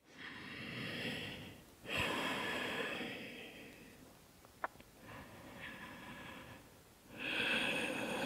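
Deep breathing during a yoga twist pose, slow audible inhales and exhales rising and falling close to the microphone, with a soft click partway through and no talk.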